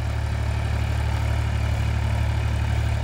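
Massey Ferguson 245 DI diesel tractor pulling a rotavator, its engine running at a steady low, even drone with a constant pulsing hum and no breaks or talk.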